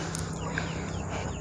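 Soft clucking from a chicken in a noisy farmyard, brief and low against a constant hum.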